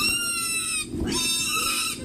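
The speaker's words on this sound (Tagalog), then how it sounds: "Bit-bit pa ang alaga nilang baboy." A pet pig grunts and squeals steadily and close by while a family carries it into a Philippine Army rescue boat during flooding in the National Capital Region.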